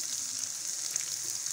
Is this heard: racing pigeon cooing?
no